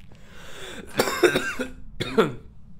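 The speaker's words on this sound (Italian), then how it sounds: "ho sentito tossire il fantasma" A ghost coughs in the horror video game Phasmophobia, two short harsh bursts about a second apart, fairly close and clear over a low steady background hum.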